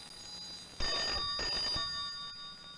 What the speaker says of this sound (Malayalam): ഫോൺ ബെല്ലടിക്കുന്നത് നിനക്ക് കേട്ടൂടെ